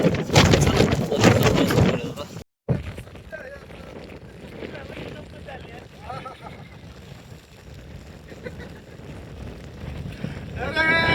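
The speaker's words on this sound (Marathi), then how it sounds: "वारा भरपूर तुम्ही पहा भरपूर हवा आहे" Strong wind buffets the microphone on a forest trail to Kalsubai, loudest in a gusty opening burst, then a lower steady rumble with people talking over it.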